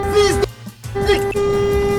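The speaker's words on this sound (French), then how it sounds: "arrête de klaxonner, frère" A car horn blares twice in long, loud, close blasts with a brief gap between them.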